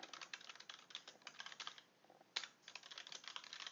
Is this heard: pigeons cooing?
no